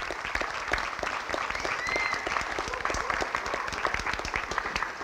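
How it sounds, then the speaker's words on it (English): An audience at an adult education graduation ceremony applauds warmly, a dense, steady crowd of clapping hands sustained throughout at moderate loudness. "Give them another round of applause."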